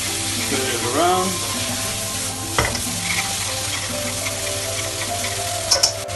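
Kuey teow noodles with soy sauce, fish sauce and dark caramel sizzle steadily in a hot wok during stir-frying, with scraping and clinks of stirring, a brief squeak and a constant background hum, and no talk.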